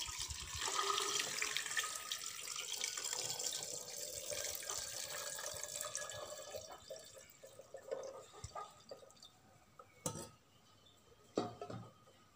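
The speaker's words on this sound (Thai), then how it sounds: "น้ำเกลือเย็นแล้วนะคะให้เพื่อนเทใส่เลยค่ะเทใส่ในโหลเลยนะคะ" Cooled salt water for salted eggs pours into a jar in a steady, fairly close splashing stream for several seconds, then thins to a few separate drips and small splashes near the end.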